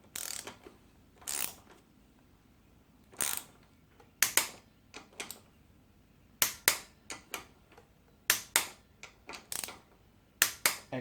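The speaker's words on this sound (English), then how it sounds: "We have a torque wrench just ready to do that." A torque wrench clicks as it tightens the front brake disc bolts on a Suzuki GSXR750 motorcycle, with sharp ratcheting clicks in short bursts separated by pauses, close and alone.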